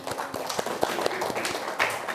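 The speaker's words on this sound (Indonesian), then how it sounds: "Bagus sekali, kita kasih tepuk tangan dulu." A classroom audience claps hands in applause during a cooperative-learning lesson, a short burst of scattered, uneven claps of moderate loudness with no voices over it.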